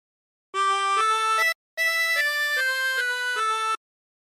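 A 24-hole tremolo harmonica plays a phrase of God Rest Ye Merry Gentlemen, about eight clear wavering reed notes in two breaths, close and fairly soft, alone.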